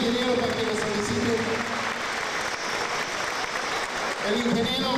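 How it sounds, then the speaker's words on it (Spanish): Audience applause at a book presentation at a journalists' club, a dense sustained wash of many hands clapping that swells slightly at the start and end, loud and close, with speech faintly beneath. "Un aplauso al ingeniero"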